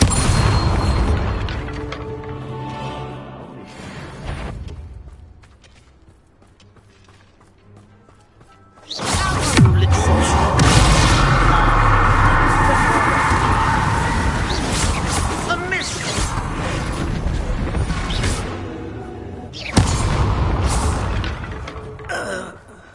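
Spell blasts in Hogwarts Legacy, the Bombarda blasting charm going off with heavy booming crashes and thuds at close range, the loudest burst beginning around nine seconds and another hit near twenty, with a voice speaking between the impacts.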